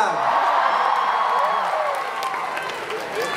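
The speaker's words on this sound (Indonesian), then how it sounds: "Bagi tepukan." Concert audience cheering and applauding for a birthday, a dense steady roar of claps and whoops with occasional shouts rising out of the crowd throughout.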